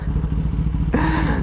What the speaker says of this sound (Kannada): ನಮ್ಮ ಹೀರೋ ಗಾಡಿ ಹಾಕೊಂಬಂದ್ಬಿಟ್ಟವ್ರೆ